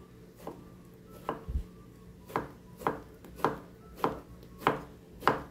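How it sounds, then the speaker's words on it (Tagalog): A knife chopping sponge gourd on a board, about eight crisp, evenly spaced cuts at a slow, steady pace, close and clear with no talking. "I-cut natin ng ganyan."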